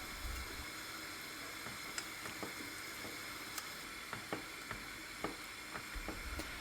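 A spoon stirring a pot of soup with chickpeas, green lentils, pearl barley and a red lentil base, giving faint scattered clinks and scrapes over a soft steady simmer, with no talking.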